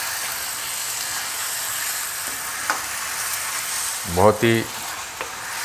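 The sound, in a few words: stirring spicy chicken sausage masala in a pan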